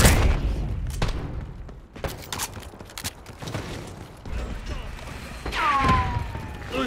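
A concussion grenade detonates in a Call of Duty Black Ops 6 multiplayer match, a dull boom amid scattered gunfire thumps and clatter, with a whistling, ringing tone trailing off near the end.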